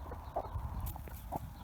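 A hen near a nest box on an allotment gives two soft, short clucks about a second apart, faint and somewhat distant over a low background hum.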